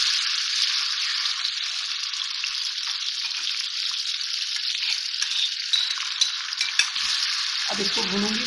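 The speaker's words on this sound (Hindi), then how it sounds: "पेस्ट मैंने बनाया है थोड़ा थोड़ा डाल के मैं इसको भूनूंगी" Spice paste for chicken curry frying in hot oil, a bright, steady close sizzle with faint stirring clinks, ending with a brief low clatter.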